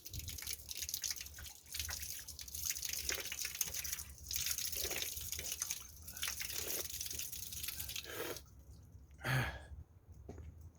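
Water splashes and trickles steadily from a public drinking fountain outdoors in Ordu, Turkey, with a brief gasp of breath near the end as someone drinks.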